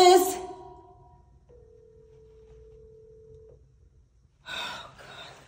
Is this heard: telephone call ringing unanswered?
yes